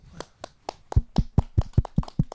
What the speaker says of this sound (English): Can we get a round of applause for Ben